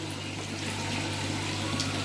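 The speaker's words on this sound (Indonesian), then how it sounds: "Air terjun juga ada di tengah bagian kolam Sobat Koi, cukup deras." A fairly strong waterfall pours into the middle of an outdoor koi pond, producing a steady, continuous rush of splashing water with no pauses, close and even in loudness throughout.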